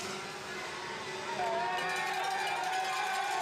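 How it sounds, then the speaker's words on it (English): A French crowd roars and cheers at the Les Gets downhill mountain bike World Cup race, a steady wash of crowd noise that swells midway, with a commentator talking over it. "You can hear the French crowd roaring on, one of their own"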